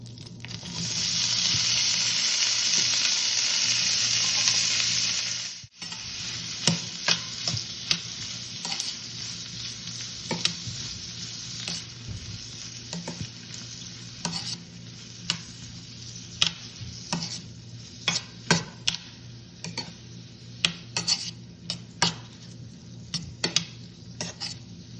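Corn and bell peppers cooking in a pan, a loud steady sizzle at first, then quieter frying broken by repeated clinks and scrapes of a spatula stirring against the metal.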